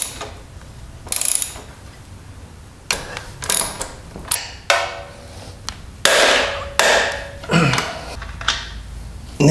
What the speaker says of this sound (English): The next step is to remove the swing arm nut here and these two Allen bolts